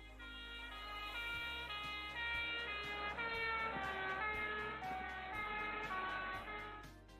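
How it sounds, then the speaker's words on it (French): A passing ambulance's wailing siren sounds continuously, its pitch sliding up and down in steady cycles with the Doppler effect, loud and close with a low rumble of traffic beneath. "Quand une ambulance ou un camion de pompiers passe avec sa sirène"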